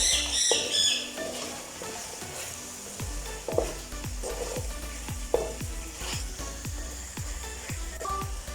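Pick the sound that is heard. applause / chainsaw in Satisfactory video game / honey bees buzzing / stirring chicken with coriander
stirring chicken with coriander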